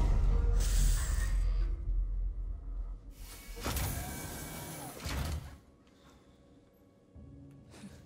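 A sliding door in Alien Isolation opens with a mechanical whoosh and hiss, a loud burst of rushing air in the middle between quieter low rumbling game ambience.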